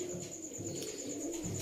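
Soft pigeon cooing blends into a steady low murmur of background noise, continuous and fairly quiet throughout.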